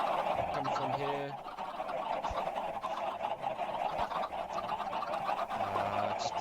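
Chickens in a Minecraft farm cluck in a dense, constant, noisy chorus that fills the whole stretch, with overlapping calls and no pauses.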